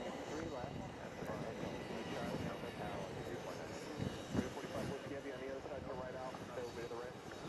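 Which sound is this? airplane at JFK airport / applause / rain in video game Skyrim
airplane at JFK airport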